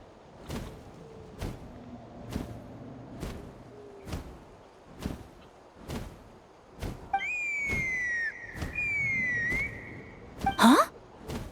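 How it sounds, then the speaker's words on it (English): In the Genshin Impact video game, a high, sustained whistle rings out with a wavering pitch and ends in a quick upward swoop, after a run of evenly spaced soft footsteps. "That sounded like a whistle."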